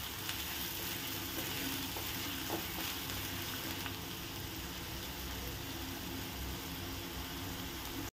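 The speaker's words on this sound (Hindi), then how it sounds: "आता आपण तेलामध्ये 2 बारीक चिरलेले कांदे ॲड करूया। कांदा छान परतून घेऊयात।" Finely chopped onions sizzle steadily in hot oil in a pan while cooking Mumbai street-style masala pav, a continuous close frying hiss with faint stirring and no voices.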